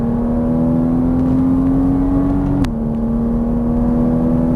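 A Porsche Cayman S engine drones steadily on a racetrack, its pitch rising gradually under throttle before a brief dip at a shift, loud and continuous from inside the car.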